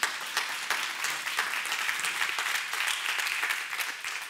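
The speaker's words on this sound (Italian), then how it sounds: "Grazie mille, un applauso a, voi." Steady applause from a conference audience at a decarbonization policy event, dense clapping sustained throughout at moderate loudness, with no voices over it.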